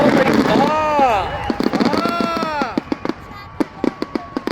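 Fireworks burst at an outdoor fireworks event, a string of sharp cracks and pops, some rapid, others spaced, beneath excited, curving shouted voices close by.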